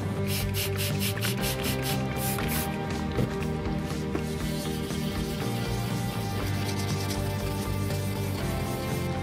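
Steady, continuous abrasive rubbing of 2000-grit wet sandpaper on a plastic car headlight, close and unbroken, with a faint rhythmic scratching texture throughout.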